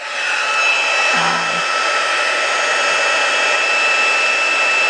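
An embossing heat gun roars as a steady, loud, close blast of hot air while it melts clear embossing powder on vellum, with a brief low hum partway through and no talking.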